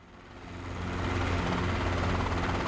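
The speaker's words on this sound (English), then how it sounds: "And let the helicopter settle." A helicopter settles to a landing in Microsoft Flight Simulator 2024, its steady rotor chop and turbine whine building in loudness and holding strong and close, with no speech.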